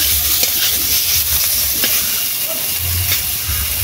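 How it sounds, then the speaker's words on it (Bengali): Ingredients for a Bengali lote fish bhuna fry gently under a lid over low heat with a little salt, giving a steady, close, hissing sizzle with faint occasional clinks and stirring sounds and a low rumble beneath. "ডিশ ঢাকনা দিয়ে আস্তে আস্তে অল্প অল্প আঁচে ভেজে নেব সবকিছু।"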